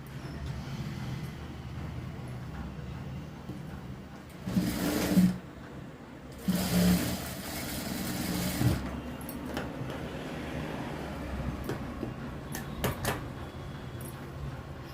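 A sewing machine stitching a blouse runs in two short bursts of whirring, the second longer, over quiet background hum.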